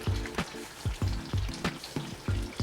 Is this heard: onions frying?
yes